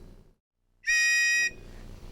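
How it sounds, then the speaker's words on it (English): A single shrill whistle blast, loud and piercing, lasts about half a second after a brief silence, with low background rumble around it. "And I've got a signal whistle."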